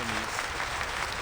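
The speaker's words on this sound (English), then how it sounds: "The applause stops." A brief burst of dense applause from a crowd, loud and continuous.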